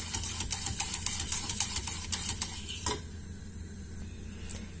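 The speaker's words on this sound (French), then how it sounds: "je continue de touiller jusqu'à ce que le mélange commence à s'épaissir" A spoon stirs a thickening mix of chocolate and instant coffee in a pot, giving a quick run of soft rhythmic scrapes and clinks that stop halfway through, followed by one louder knock and quiet.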